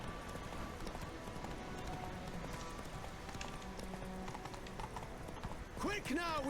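Steady clip-clop of horse hooves trotting in a busy The Witcher 3: Wild Hunt soundscape with voices, and a brief whinny-like call near the end.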